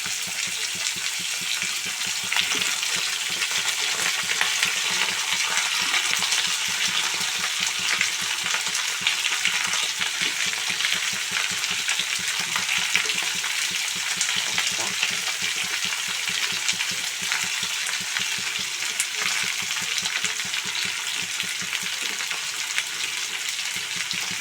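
Small diced cauliflower cubes sizzle steadily in a pan for a Bengali cauliflower, potato and paneer curry, a loud continuous frying hiss with faint stirring throughout.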